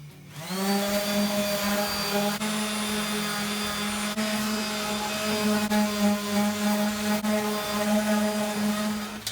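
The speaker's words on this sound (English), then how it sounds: "And now I'm going to put the 220 on it and sand the whole back." Sanding the back of a homemade electric guitar body with 220-grit paper, heard as a steady, loud whirring drone with a strong tonal hum running continuously for the whole stretch, no talk over it.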